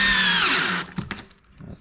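A power drill runs loudly for under a second, driving screws into a shower drain cap, its whine dropping in pitch as the motor slows. A few small clicks and knocks follow as it stops.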